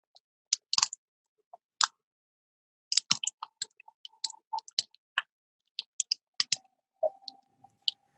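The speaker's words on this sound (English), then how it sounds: "So we heard some snapping shrimp." Sharp, irregular underwater clicks and snaps of snapping shrimp, recorded with boat engines off, crackle in scattered bursts, some close and loud, others fainter, over near silence.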